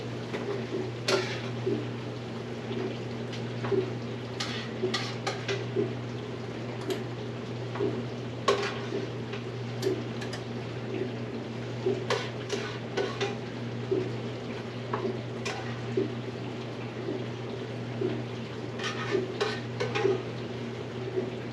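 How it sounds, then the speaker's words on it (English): A spoon scooping baked breakfast casserole into a bowl, with light scattered clinks and scrapes of utensil on dish over a steady low kitchen hum. "We're just going to go over and scoop it out into our bowl."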